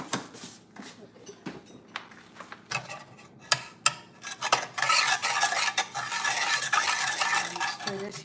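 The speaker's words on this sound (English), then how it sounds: "Stir this here." A utensil scrapes and clinks against a pot while chicken meat with browned sugar is stirred, at first with scattered taps and then with steady, close sizzling and scraping.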